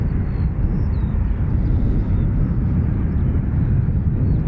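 An American Airlines Dreamliner departs Dublin Airport for Philadelphia, a steady loud low engine roar that holds evenly for the whole stretch, with no voices.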